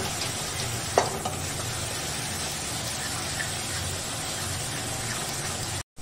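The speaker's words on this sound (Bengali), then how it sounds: "এবার আমি যে চিকেনটাকে পেস্ট করে রেখেছিলাম সেই পেস্ট করা চিকেনটাকে এর মধ্যে দিয়ে খুব ভালো করে নেড়ে মিশিয়ে নেব।" Chicken paste is stirred into a spice masala frying in a pan for dal chicken, giving a steady soft sizzle with scraping and stirring sounds and a brief clink of a utensil.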